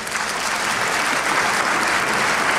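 An enthusiastic crowd at the Belgrade BELDOCS 2017 documentary film festival opening gives sustained, dense applause. It is loud and even throughout, with many hands clapping together and no clear voices.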